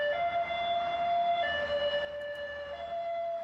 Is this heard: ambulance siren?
yes